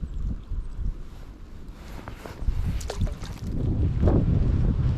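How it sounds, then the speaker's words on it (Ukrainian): Strong winter wind buffets the microphone outdoors on the ice at a perch fishing spot, a rough, rumbling roar that surges in gusts and grows louder toward the end, with no speech. "Вітер такий вже знімається, що нереально ловити просто."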